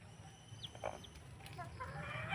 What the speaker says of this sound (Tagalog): Maganda itong inahin.